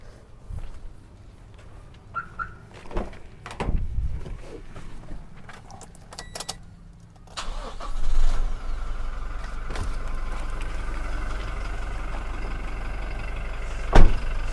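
A Toyota diesel with a six-speed automatic: after some handling noises and thumps, the engine settles into a low, steady idle hum, fairly quiet, with a sharp click near the end.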